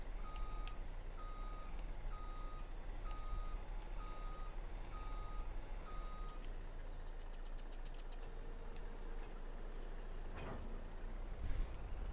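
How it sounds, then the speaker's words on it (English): Truck reversing beeper in Farming Simulator 22, backing a trailer into its spot: a steady series of evenly spaced beeps under a low engine idle, stopping partway through, with a brief clunk near the end. "Now we're gonna back this trailer up, put it home in its spot."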